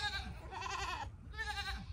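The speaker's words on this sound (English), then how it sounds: "You ready to let these goats out?" Goats bleat close by in two or three quavering calls, wavering and nasal, with a short gap between them, in a farm pen before being let out.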